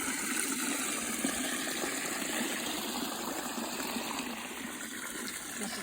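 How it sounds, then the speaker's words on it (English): Water gushing from a hole in the ground at a natural aquifer on a South Carolina nature walk, a constant broad rushing and splashing that stays steady throughout. "the water is just coming out of the hole."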